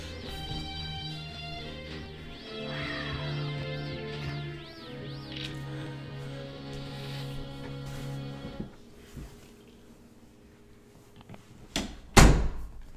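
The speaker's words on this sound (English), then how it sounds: "let me close my door so I don't have all this reverb bouncing around." A bedroom door closes after steady background game music cuts out; a few faint knocks lead to one loud, close thud near the end.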